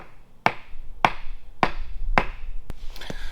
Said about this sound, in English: And we're just gonna lightly tap it down.